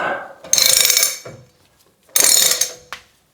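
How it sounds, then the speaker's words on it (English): Ratchet with a 35 mm socket working a very tight axle nut on a Chevrolet Colorado or GMC Canyon wheel hub, two loud bursts of rapid clicking separated by a short pause, close up, followed by a lighter click. "To loosen the axle nut, you're gonna need a 35 millimeter socket."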